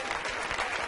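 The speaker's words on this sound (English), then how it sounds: "round of applause for Teresa Esposito." A game-show studio audience gives a brief, steady round of clapping to a contestant, heard at a moderate distance for about a second.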